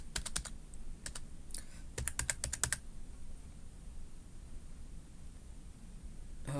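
Keystrokes on a computer keyboard while filling in a form for a Blogger website, coming in quick bursts of clicks with pauses between them, close and fairly quiet over a steady background hiss.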